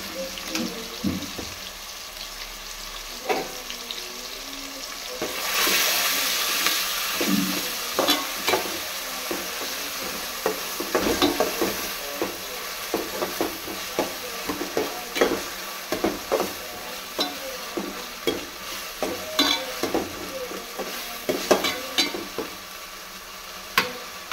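Ginger garlic paste frying in a pan with tomato for a meal maker pulao, a loud continuous sizzle broken by frequent sharp scraping and clinking of a spoon stirring against the pan, with no talking.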